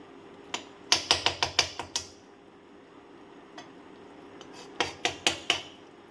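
A utensil scrapes and knocks against a pan while a sticky puffed rice naru mixture with ghee is stirred, a rapid run of sharp clacks followed by a pause and a second short burst, close and fairly loud.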